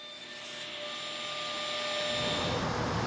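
A power saw cuts a wooden tabletop board for an octagon picnic table, giving a steady, close whine with whistling tones that grows rougher and louder as the blade moves through the wood.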